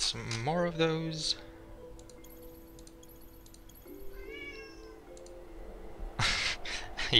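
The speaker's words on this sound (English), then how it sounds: "You can hear my cat meowing." A cat meows a few times close by, rising wavering cries at the start and again later, with quieter background noise between.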